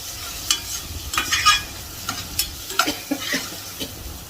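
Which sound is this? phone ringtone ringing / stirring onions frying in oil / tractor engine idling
stirring onions frying in oil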